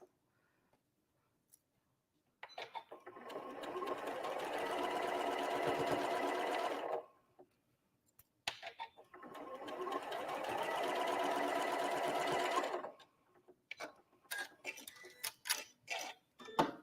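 A sewing machine stitches quilt fabric for a sawtooth star block in two long, steady runs of a few seconds each, separated by a pause, then gives off a series of short clicks and adjustments at close range with no talking.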